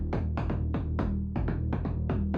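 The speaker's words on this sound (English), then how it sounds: "it's just there to add a little bit of a percussive hit to the top of the bass" A percussive synth hit layered over a progressive house bassline, with delay added and the low end cut, strikes in a steady rhythmic pattern of about ten sharp, bright attacks over a sustained low bass.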